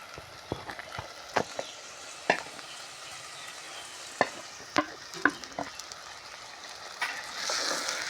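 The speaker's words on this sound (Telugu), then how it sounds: "వేసుకున్నాక ఇలా కలుపుకున్నామండి ఇవి కూడా నూనెలో కొంచెం మగ్గు తీయండి" Broad beans stirred in hot oil with tomato in a pan make sharp, intermittent scraping clicks from the utensil over a soft, steady sizzle, ending in a louder burst of frying.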